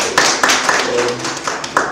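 A training-programme audience claps in a round of applause, with broadband bursts and several sharper individual claps standing out over a steady wash, loud and close.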